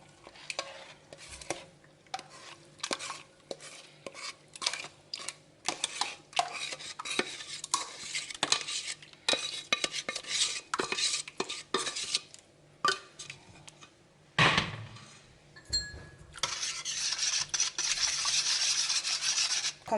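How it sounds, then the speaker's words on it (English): Liquid cake ingredients for a caramel cake being whisked together in a bowl, an irregular run of close scraping and clinking strokes against the bowl with a few sharper knocks, continuing without any talk. "you whisk it very well until they all combine, and then gonna mix them together"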